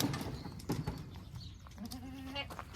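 A Boer goat bleats once in a drawn-out call amid a goat handling setup during hoof trimming, with scattered clatter and shuffling around it, fairly close.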